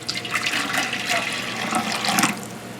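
Water pours into a measuring cup beside a home distilled-water setup, a steady close splashing trickle that runs the whole time with slight swells in level.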